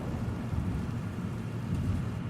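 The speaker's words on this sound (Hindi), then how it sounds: "कुछ ही देर में मौसम बहुत बिगड़ गया और बहुत तेज बारिश होने लगी।" Heavy rain pours in a steady, dense hiss around a car on a road as the weather turns bad, with a low rumble underneath that fits thunder. The sound stays constant and fairly loud for the whole stretch.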